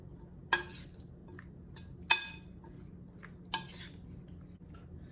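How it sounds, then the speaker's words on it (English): Chopped cherry salsa ingredients tossed into a bowl, making three sharp clattering impacts spaced about a second and a half apart against a quiet kitchen background, with no talking. "now that we've got all of the ingredients chopped up, we're just gonna throw that all into the bowl"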